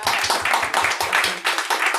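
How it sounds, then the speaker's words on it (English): An audience at a Universal Language Room launch event breaks into steady applause, dense clapping filling the room at full volume throughout, with a few voices faintly mixed in. "A round of applause for you for coming out."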